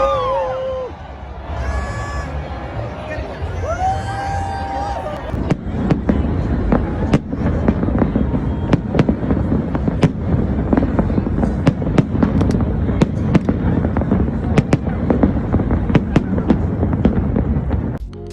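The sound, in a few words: fireworks being set off over Las Vegas hotels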